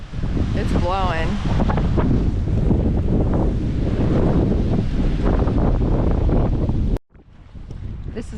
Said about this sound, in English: I don't mind the wind, but it's blowing.